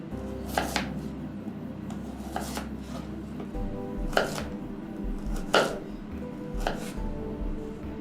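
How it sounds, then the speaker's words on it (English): A knife chops a peeled carrot into small pieces on a cutting board, with crisp, evenly spaced chops at a moderate pace, close and clear, over a low kitchen hum. "Peel the carrot and chop it small."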